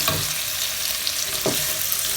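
Vegetables fry in oil in a pan for egg fried rice, giving a steady, close hiss with two short stirring scrapes breaking through.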